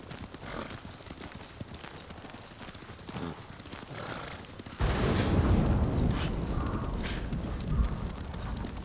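Horse hooves clip-clop steadily in the video game Ghost of Tsushima, a rhythmic trotting that swells louder midway under a rumbling game soundscape.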